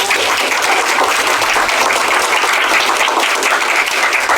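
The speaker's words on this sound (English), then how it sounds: "I think we all need to give him a round of applause." Sustained, loud audience applause at an outdoor rail trail ribbon cutting ceremony in Lebanon Valley, a dense wash of many hands clapping steadily throughout.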